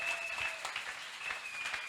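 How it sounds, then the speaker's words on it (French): A church congregation applauds during an Easter harvest service with a bishop, dense continuous clapping at moderate distance with a faint tonal whistle running through it. "Des acclamations pour les rois."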